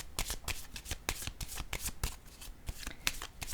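Tarot cards are drawn and shuffled close up, making a run of quick papery flicks and riffling slaps with an uneven rhythm and no voices.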